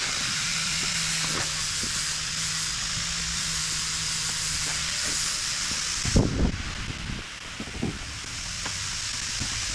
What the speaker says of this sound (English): Get that CNC tape fired up here. I gotta cut some parts out for Mr. Jones over there.